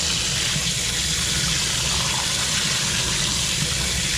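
Water gushing steadily off an INTEX pool filter cartridge as it is hosed clean, a continuous close splashing rush with no voices.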